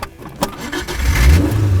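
A cheap off-road car's engine cranks and catches, then rises into a loud, low revving rumble that builds and holds close by, with no talking.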